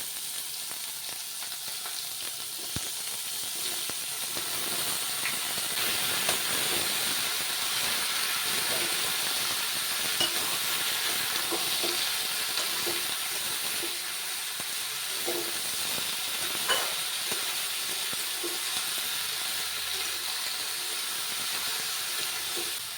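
Chopped bottle gourd and green chilies fry in a pan with a steady hiss and sizzle, with occasional light clinks and stirring sounds throughout.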